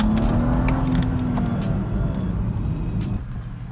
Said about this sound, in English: Listen to the spool.